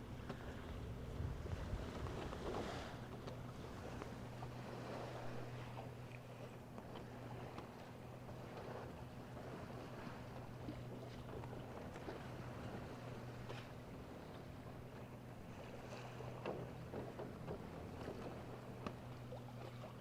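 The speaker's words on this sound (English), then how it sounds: "We're sailing into the wind." A small wooden sailboat beats into the wind at sea, steering itself with no autopilot or self-steering gear, giving a steady low rush of wind and water with a constant hum and faint slaps against the hull.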